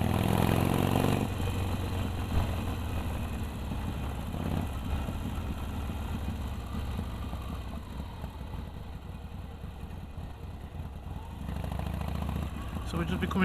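Harley-Davidson 883 motorcycle engine on an open road ride, a steady low rumble with pulsing mid-range chug and wind roar throughout, fairly loud and continuous with slight swells near the start and end.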